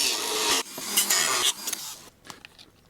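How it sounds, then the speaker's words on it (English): A sanding bit grinds on a plastic motorcycle crash bar part, giving loud, harsh rasping bursts that cut out and resume, then fade into lighter scraping and taps. "This is just a sanding bit. Doesn't work the greatest on the plastic"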